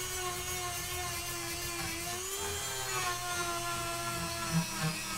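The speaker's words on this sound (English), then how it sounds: "The Dremel's getting quite warm, so I may be reaching a limit" Dremel rotary tool enlarging a hole in drawer-building work, a steady high-pitched whine that runs continuously and loud throughout, with slight shifts in pitch as the bit bears into the material.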